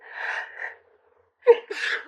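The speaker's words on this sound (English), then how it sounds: "I sneezed right at the same time" One sharp, close sneeze bursts out after a moment of breathy voice and a short silence, followed by a quick exhale.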